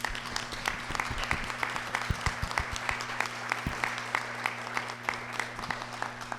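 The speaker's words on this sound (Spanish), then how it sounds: "empecemos esto con un fuerte aplauso" Sustained applause from an audience, steady clapping filling the room over a low electrical hum.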